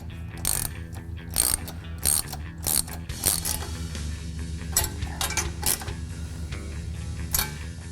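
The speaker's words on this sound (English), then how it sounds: "Then tighten down the clamps." A ratchet tightens the exhaust clamps on a Ford Bronco during an EFI kit install, giving quick bursts of close, crisp clicking between short pauses.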